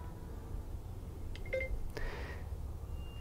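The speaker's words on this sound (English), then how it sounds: "So you ring it, the person out here hears that, I get the call, and then I get to answer it." An Arlo Essential wired video doorbell call alert plays on a phone: a short run of soft electronic chime tones around the middle, faint over steady room hiss, with no one speaking.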